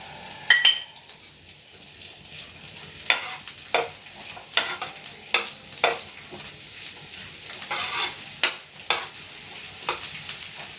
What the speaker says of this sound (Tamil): இப்போது நான்ஸ்டிக் தவா கேஸில் வச்சுருக்கேன் ஆன் பண்ணுறேன் அதில் சிறிதளவு எண்ணெயை வெங்காயத்தை அதில் போட்டு